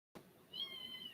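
A cat gives a single drawn-out, high-pitched meow close by, indoors, after a brief silence and a soft thump.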